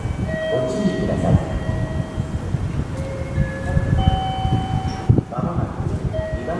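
An eight-car Meitetsu 2000 series μSKY train passes through a Nagoya Railroad station with a steady rolling rumble, platform tones and announcements sounding over it and a sharp clank near the end.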